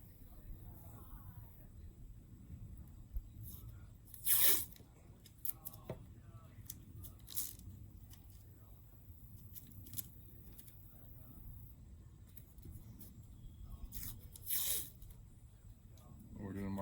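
Painter's tape pulled off a roll and torn for marking a spot during a quiet indoor installation: two short, sharp ripping bursts separated by about ten seconds, over faint handling noise and room hiss.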